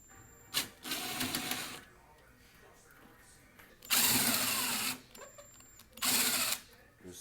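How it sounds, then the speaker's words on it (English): Power driver with a T15 bit backing screws out of a stove door, heard as three close whirring bursts of about a second each, separated by quieter gaps. "I'm gonna unscrew the screws on the bottom and take the door apart to clean inside the door"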